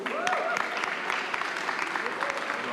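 An audience at a hackathon pitch event claps steadily for the whole stretch, a dense even applause with a few indistinct voices underneath.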